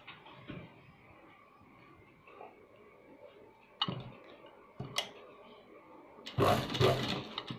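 A sewing machine stitches a seam on blouse fabric in short, quiet bursts of ticking, with a louder, busier run near the end and occasional handling clicks between stretches.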